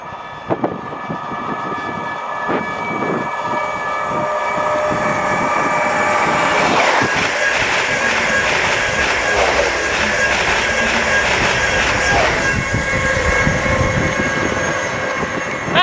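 Class 66 freight locomotive 66738 passes toward Felixstowe, its deep engine rumble and rolling wagon noise building to a loud, steady roar close by for most of the clip, with no talk over it.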